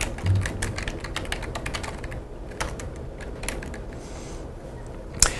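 Computer keyboard keys tapped in quick irregular bursts while editing page content in a web template, close and fairly quiet, with a sharper single key strike near the end and no talking.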